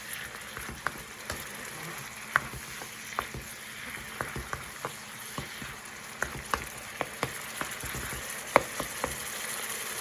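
Mashed eggplant for baingan bharta fries in a pan over raised heat to dry out, giving a steady, gentle sizzle. Scattered sharp pops and crackles break through it over ten seconds, and no one speaks.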